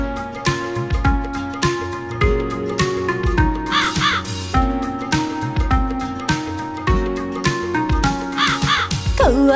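A crow caws repeatedly over a busy musical backing in a Hindi children's rhyme about a thirsty crow and a water pot, the calls rising above the dense, loud accompaniment.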